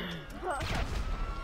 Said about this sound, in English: So much grenades.